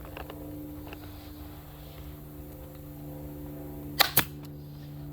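A staple gun fires 1/4 inch stainless T50 staples into a jet ski cover: two sharp, loud snapping shots in quick succession near the end, over a low steady hum.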